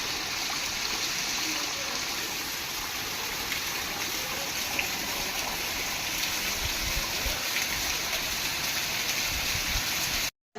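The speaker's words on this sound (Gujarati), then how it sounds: "વરસાદ હજી પણ ચાલુ જ છે" Heavy rain pours steadily in Porbandar during a windy downpour, a dense, unbroken hiss of drops striking surfaces close by for the whole stretch, with no voices, until the sound cuts out abruptly at the very end.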